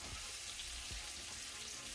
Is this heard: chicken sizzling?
yes